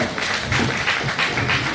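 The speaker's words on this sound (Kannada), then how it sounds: "ಎಲ್ಲರ ಕೈ ಚಪ್ಪಾಳೆಯ ಸ್ವಾಗತ" An audience claps together to welcome bhajan singers, a steady patter of applause with soft rises and falls, moderately loud and continuous.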